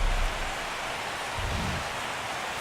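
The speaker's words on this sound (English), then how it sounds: "the rain's coming down pretty good here at Fenway Park" Rain pours down at Fenway Park in MLB The Show 17 as a steady, even hiss, constant throughout with no voices over it.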